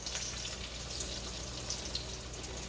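Battered green tomatoes frying in an iron skillet, a soft, steady crackle and sizzle of hot oil running continuously at low volume with no talking.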